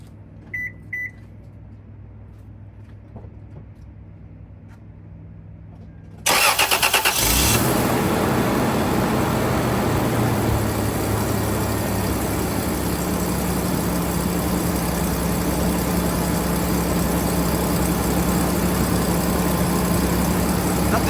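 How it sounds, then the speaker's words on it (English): A quiet stretch, then a Toyota 4Runner 5VZ-FE V6 engine with Doug Thorley headers cranks and fires abruptly on a cold start, settling into a loud, steady high idle with a constant drone for the rest. "now that everything's installed, let's check out this cold start."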